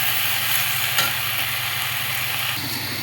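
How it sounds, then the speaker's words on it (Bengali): Water lily stems fry in a pan with a loud, continuous close sizzle and crackle, joined by a couple of brief stirring clinks. "এইভাবে একটু ভেজে নেব, তারপরে মাছ অ্যাড করবো এর সাথে"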